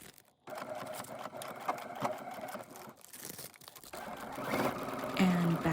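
A sewing machine stitches a small vinyl snap pouch lined with tissue paper, running in steady, close mechanical bursts with brief pauses and a final quick backstitch.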